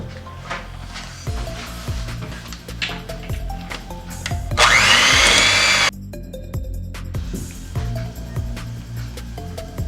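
A blender whirs through butter and white sugar in one loud burst of about a second, over steady background music with repeated percussive knocks.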